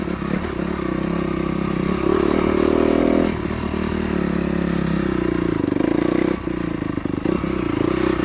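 Dirt bike engine running steadily on a trail in a fairly high gear, a loud continuous droning motor with slight swells in revs and some clatter throughout, no talking.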